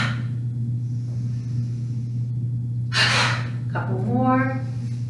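Forceful yoga breath, a sharp loud exhalation followed by a shorter voiced breath, heard close over a constant low hum in an exercise class.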